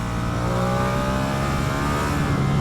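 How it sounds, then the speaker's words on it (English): A high-revving Ducati Streetfighter V2 motorcycle engine holds a steady, strained whine with harmonic buzz throughout, close and loud with no voices. "get the revs up, man, and it pulls"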